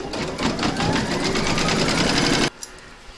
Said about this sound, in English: Pop your hoop back into your machine and stitch round number three to secure it.